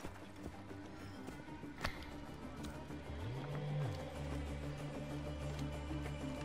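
Horse hooves clop in Assassin's Creed Origins, scattered steps over a busy game soundscape with a low rising tone partway through, moderately faint.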